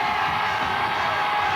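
A studio audience at a televised music show greets the singer with a continuous, even roar of cheering and applause, broad and unbroken for the whole moment.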